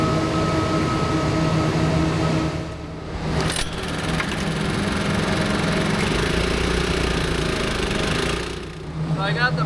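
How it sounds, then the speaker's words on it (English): Engine-driven pump running steadily beside a farm nitrogen sprayer tank, a continuous mid-pitched idle hum heard up close, with brief dips and people speaking at moments. "I got the pump running, so it's gonna suck"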